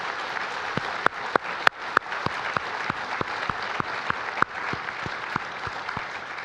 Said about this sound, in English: a round of applause for the panel first